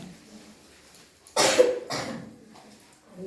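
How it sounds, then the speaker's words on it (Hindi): One sharp cough followed by a second softer one, close and fairly loud, in an otherwise quiet room. "खांसी आ रही है।"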